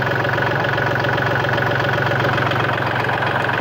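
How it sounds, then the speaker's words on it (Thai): A 2011 Kubota L3608 tractor diesel engine idles close by with a steady, even, knocking chug that holds constant throughout. "เครื่องนิ่มเลยครับทุกคนเห็นไหมฮะ"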